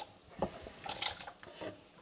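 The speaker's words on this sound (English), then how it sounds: "And now all these potatoes go in this pan of water." Inch-sized potato pieces dropping into a pan of water, producing a few brief splashes and plops, close and fairly faint, with no talking.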